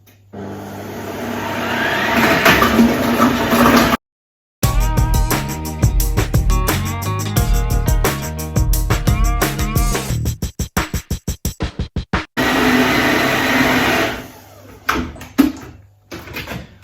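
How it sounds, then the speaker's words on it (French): Food processor at speed 6 chopping carrots and onions, a loud, continuous whirring roar with rattling and thumping as the vegetables are dropped into the bowl, a brief cutout partway through, then a rapid pulsing stretch. "je me mets en vitesse 6 et je fais démarrer, puis je vais jeter mes légumes directement dans le bol pour les mixer"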